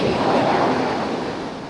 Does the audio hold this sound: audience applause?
no